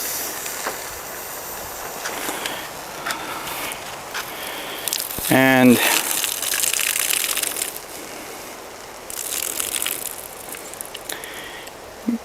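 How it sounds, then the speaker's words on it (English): Water-soaked hickory wood chips drop onto burning charcoal in a barbecue grill, giving a short crunching clatter followed by a steady hiss of steam and smoke, while someone speaks briefly. "Now, the next thing I'm going to do is I'm going to put on some hickory chips."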